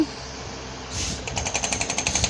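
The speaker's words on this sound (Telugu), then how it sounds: "వైబ్రేషన్ వైబ్రేషన్ ఇచ్చి డ్రిల్ చేస్తున్నారు దాన్ని" A borewell drilling rig starts up, then its bit pounds in a fast, even series of loud mechanical thuds as it vibrates into the ground.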